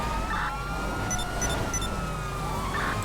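Police car siren in the GTA video game, a steady wailing tone running continuously through the clip at moderate level alongside game engine and traffic noise, with no talking.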